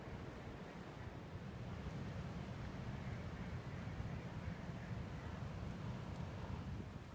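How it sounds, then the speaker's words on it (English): A cold north wind blows across a riverbank during a storm, making a steady, low, rumbling rush with microphone buffeting throughout. It is fairly faint and has no voices. "The wind's coming in from the north"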